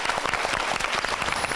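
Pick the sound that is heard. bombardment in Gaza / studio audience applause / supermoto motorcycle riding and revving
studio audience applause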